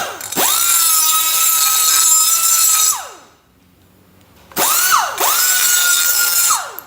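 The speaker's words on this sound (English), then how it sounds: "grinder with a round porting stone. And I'm just going around the inside." A handheld grinder fitted with a round porting stone works around the inside of exhaust tubing, giving a loud, close, steady high whine for about three seconds. It spins down, goes quiet, then starts again and runs steadily to the end.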